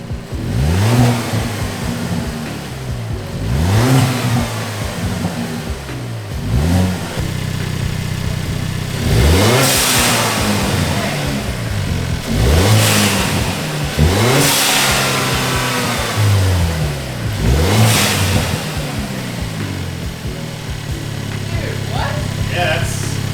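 Hyundai Elantra N with an SXTH Element AV6 blowoff valve, its engine revved hard about seven times in close, loud pulses, each rev ending in a bright hissing blowoff release, with idling between and talk over it.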